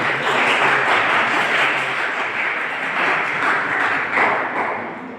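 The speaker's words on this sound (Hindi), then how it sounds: "चुप कराने के लिए ताली बजा" A dense, steady wash of hand clapping from an audience at a farewell lecture ceremony, sustained at an even, fairly loud level throughout with no pauses.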